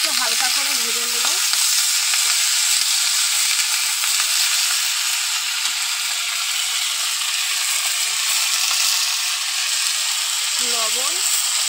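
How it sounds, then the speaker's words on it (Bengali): Potato and eggplant lightly frying in a pan, a loud, dense, continuous sizzle held close throughout, with a voice briefly talking at the start and again near the end. "আলু আর বেগুনটা একটু হালকা করে ভেজে নেব"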